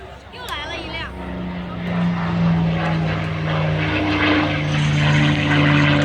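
A P-51 Mustang's Merlin engine roars low past the crowd at the Dayton airshow, a loud sustained propeller drone that builds and holds under an announcer speaking over a public-address system.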